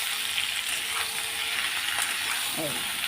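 Papaya and potato curry frying in a pan gives off a steady, close sizzling hiss that runs the whole time, with faint clinks near the end.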